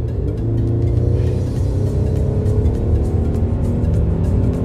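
A Mercedes C400 4MATIC with 330 horsepower accelerates in sport plus mode, its engine a loud, deep rumble rising steadily in pitch as it pulls, heard up close without talking.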